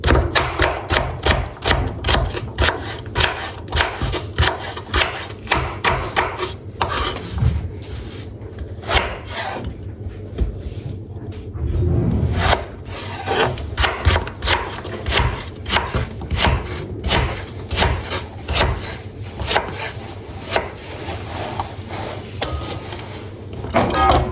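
Two potatoes are chopped on a board with a knife, a rapid run of sharp thuds, a short pause, then more steady chopping, close and loud.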